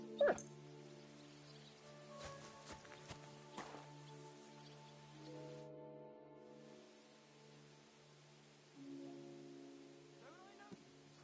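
A dog in the video game Kingdom Come II whimpers and yips softly in a quiet scene, with brief scuffling sounds and a low ambient hum beneath.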